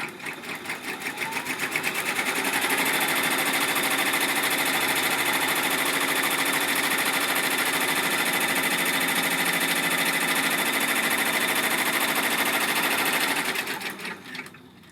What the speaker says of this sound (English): the first step is a placement stitch, and you know, normally I skip those, but in this little project's case,